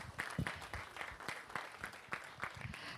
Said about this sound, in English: I think we can do one more round of applause for Natyeshwara Dance Academy